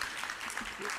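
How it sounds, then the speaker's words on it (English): An audience at a university G20 celebration event applauds, with faint, dense clapping filling the short moment. "It was magnificent, so round of applause."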